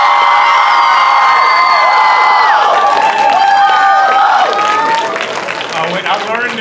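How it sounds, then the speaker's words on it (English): An audience gives a big round of applause for actor Anthony Mackie, with loud sustained clapping, whoops and high cheering voices from a packed crowd that slowly thins toward the end. "So I want you to make a big, big round of applause for Anthony Mackie."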